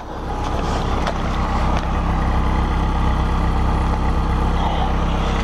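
A 1996 Chevy Cavalier idles after a cold start in sub-freezing weather, a steady, close engine drone with a low, even hum and faint clicks, running alone without talk.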